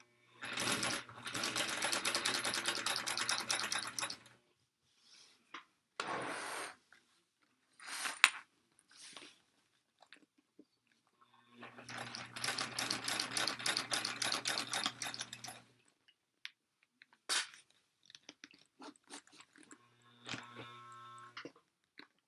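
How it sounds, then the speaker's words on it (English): A sewing machine stitches through two layers of folded vinyl on a tote bag, in loud rapid bursts of a few seconds each, separated by pauses and short fabric handling noises. "I'm sewing through 2 layers of folded vinyl"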